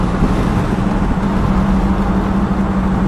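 A 1958 Chevrolet Impala hardtop with a 348 big-block V8, engine running steadily while driving with light throttle, a loud continuous low rumble with a constant hum and no voices.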